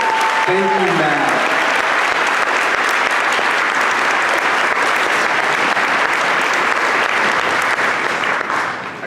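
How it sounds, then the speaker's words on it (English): Sustained applause from a school presentation audience, a dense steady clapping that fills the room for several seconds before tapering off at the end, with a voice briefly audible at the start. "Huge round of applause to Mallory Sheridan for putting that together"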